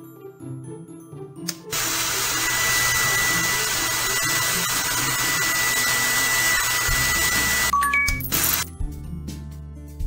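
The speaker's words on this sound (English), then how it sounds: "Turn on the hairdryer." A hair dryer in a Halloween pet salon makeover video game switches on with a steady, loud whirring blast for several seconds, then cuts off amid short game chimes and background music.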